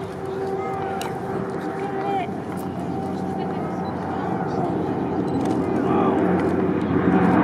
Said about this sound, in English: it's flyby. It's a flyby.